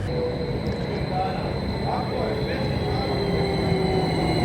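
A passenger train near Požega in Serbia, bound for Priboj, gives a steady, loud rolling rumble and hiss throughout, with faint voices mixed into the constant noise.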